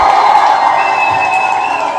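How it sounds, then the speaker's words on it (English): An audience cheers and applauds loudly, a dense, continuous wash of clapping and voices with a whoop rising above the crowd, sustained throughout. "Again, another round of applause."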